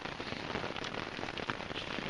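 Heavy rain pours steadily in a rain forest, a dense, unbroken hiss of drops drumming on surfaces close by, with no voices.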